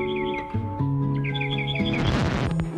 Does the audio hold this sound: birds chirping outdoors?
yes